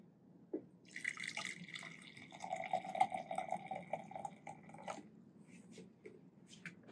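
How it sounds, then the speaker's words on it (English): An egg lowered into a jar of hot spinach dye water, giving soft drips and small liquid splashes with a brief gurgle, close and fairly quiet over low background hum. "So I'm gonna go ahead and drop an egg in, let it start doing its thing."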